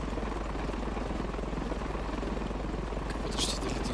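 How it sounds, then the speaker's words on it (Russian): Helicopter in the Ravenfield video game passing overhead, a steady broadband rotor drone that holds at an even, moderately loud level throughout, with a brief bright swell near the end. "Как будто что-то летит. Вертолёт, что ли, или что?"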